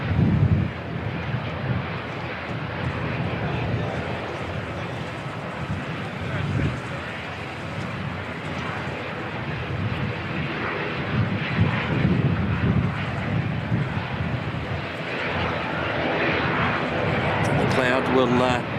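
An Australian Air Force aircraft at Christchurch Airport delivers a loud, steady engine drone that persists throughout, with people talking over the noise.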